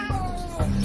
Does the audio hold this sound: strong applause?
no